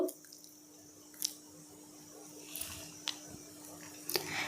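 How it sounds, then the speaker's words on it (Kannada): A spoon stirring aloe vera gel into a homemade skin cream, giving soft, wet squishing and a few light clicks spaced out over a quiet background. "ಈ ಥರ ನಾವು ಸ್ಪೂನಿಂದ ಈ ಥರ ಮಿಕ್ಸ್ ಮಾಡ್ಕೊಳ್ತಾ ಹೋದರೆ ನಮಗೆ ಕ್ರೀಮ್ ರೆಡಿಯಾಗುತ್ತೆ"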